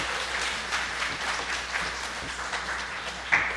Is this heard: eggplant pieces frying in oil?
no